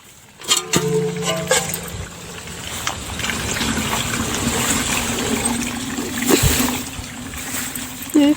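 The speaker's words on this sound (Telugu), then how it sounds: "మోటార్ కట్టేసేలోపు గిన్నెట్టు నీళ్ళు పోతాయి కదా" Water from a pump motor pours and splashes into a vessel in a rural household. The gushing trickle runs fairly loud and close through most of the stretch, with a few knocks and bumps over it.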